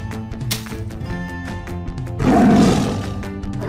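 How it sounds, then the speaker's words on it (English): A toy tiger cub lets out a short, loud electronic roar after a few sharp clicks and thin tones, the growl swelling briefly before fading, with no voice over it. "Tiger cub."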